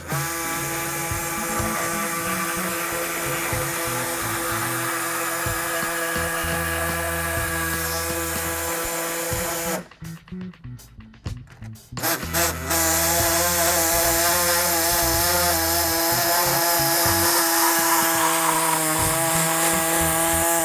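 A power tool trims plastic pieces behind a CBI T3 Covert half bumper with winch, running in a loud continuous buzzing whine, cutting off briefly in the middle before starting again at full volume.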